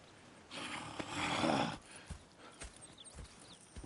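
Horses in the Red Dead Redemption 2 video game give a soft, breathy snort lasting about a second, followed by a few faint hoof thuds and small shuffling sounds.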